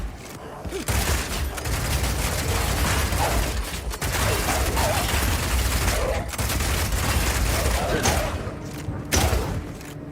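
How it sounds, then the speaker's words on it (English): A Rapid Shot bow skill fires quickly again and again in the video game Path of Exile 2, making a dense, sustained stream of thumping, snapping shot impacts and combat clatter that continues steadily without a pause. "Rapid shot is great for closing on enemies because you can shoot while running."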